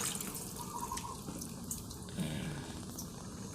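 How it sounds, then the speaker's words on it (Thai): Soaked mung beans being rinsed under running water, a soft continuous trickle and splash with faint drips, quiet and close. "แล้วก็มาล้างอีกเนาะมาล้างอีก สองรอบสามรอบตามอัธยาศัยพี่น้องเลยนะคะ"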